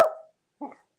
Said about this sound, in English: There's the puppy dog.